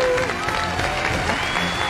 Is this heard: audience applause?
yes